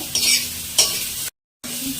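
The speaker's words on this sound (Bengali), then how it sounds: "এখন ভোলা মাছের ঝাল করছি সর্ষে বাটা দিয়ে।" Bhola fish frying in mustard paste makes a close sizzle with two sharp bursts of stirring. A short silent gap follows, then the frying resumes at a lower level.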